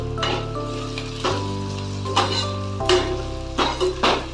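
Whole small green chillies fry with onions in a pan for a fish curry, a constant close sizzle broken by several sharp clinks and scrapes of a utensil stirring against the pan.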